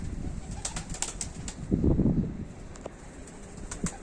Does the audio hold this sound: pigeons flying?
yes